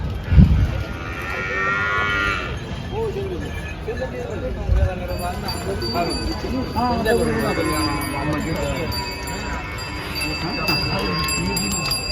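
Bulls, including Khillar and local breeds, low repeatedly amid a busy outdoor crowd at the Malegaon cattle market, with people talking throughout and a faint bell ringing now and then.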